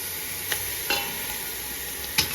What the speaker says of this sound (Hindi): तो पतीली जो है हमारी गर्म हो गई है। तो इसमें मैं सबसे पहले ये गोश्त डालूंगी।